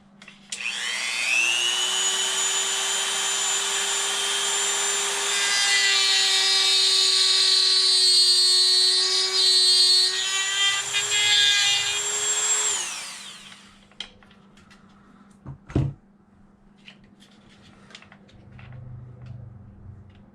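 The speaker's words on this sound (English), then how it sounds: "I'm going to Dremel a little slot in here to hold the line into place." A handheld Dremel rotary tool cuts a small slot while fitting a kill switch on a Losi DBXL 32cc RC truck. A steady, loud high-pitched whine runs for about twelve seconds, then stops, leaving a few faint clicks and knocks.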